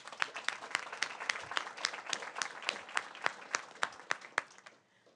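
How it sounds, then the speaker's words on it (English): A round of applause at a Board of Education meeting for staff, a modest group clapping fairly close with distinct individual claps, holding steady and then fading out near the end. "So let's give them a round of applause, please."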